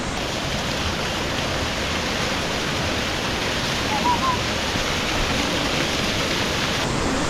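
A waterfall at the Kusatsu hot springs in Japan at night gives a steady, loud, broadband rushing roar with no letup, close to the listener.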